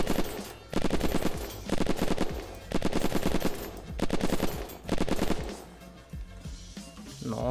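Automatic gunfire from the video game Unturned rattles out in repeated sustained bursts of roughly a second each, separated by brief pauses, loud and close, before a few scattered single shots near the end.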